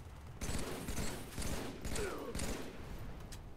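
Assault rifle fire in the Halo 3 multiplayer game, several bursts of rapid shots at moderate level with a brief pause between them, followed by quieter mechanical clatter.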